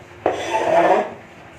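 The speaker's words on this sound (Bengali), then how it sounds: "চলো মশলাটা বেটে নিই তাহলে" Garam masala spices are ground into a paste on a stone, heard as one close, loud gritty rubbing stroke that lasts about a second and then fades.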